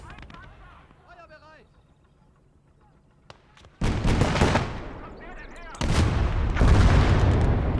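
Gates of Hell battle in an Eastern Front tank-and-infantry scenario, with bursts of gunfire and booming artillery blasts growing into dense, loud explosive roars in the second half, while someone talks over the quieter start.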